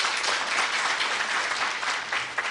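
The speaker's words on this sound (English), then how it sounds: "Can we have a round of applause for her?" Steady, dense applause from a crowd, sustained clapping throughout without voices standing out.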